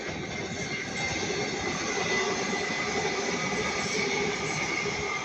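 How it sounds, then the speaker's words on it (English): A Northern Class 331 electric multiple unit passes at Ardwick on a Manchester Piccadilly to Crewe service, giving a loud, steady rumble and hum of wheels and traction that holds throughout. "we have a Northern Class 331."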